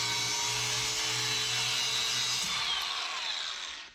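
A power tool grinds through a metal bracket on a 1961 Chevy wagon build, a loud, steady high-pitched cutting whine that holds for a few seconds before spinning down at the end.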